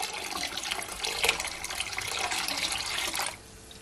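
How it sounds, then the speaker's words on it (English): Steady pouring of ginger syrup into lemonade, a continuous splashy gurgle into a glass for a few seconds before it tapers off. "Now I'm gonna add all my ginger syrup onto my lemonade, okay? I'm gonna pour it all in."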